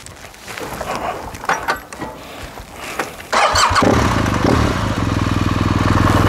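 A motorcycle engine cranks with some clatter and then fires, settling into a loud, steady close-up idle rumble for the last few seconds.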